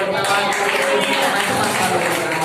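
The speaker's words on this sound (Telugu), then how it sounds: "చప్పట్ల" Dense applause from a church congregation during a Sunday sermon, a steady crackling wash of many hands lasting a couple of seconds with no pauses.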